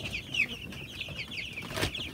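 Chicks in a brooding house, soft high peeping and clucking chirps running continuously at close range without any speech.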